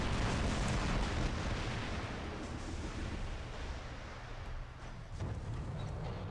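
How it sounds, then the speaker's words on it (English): Rockets fire in the War Robots mech combat game as a dense, continuous roar of blasts and rumbling explosions that stays loud and saturated throughout, with no voices. "Yeah, he's firing rockets."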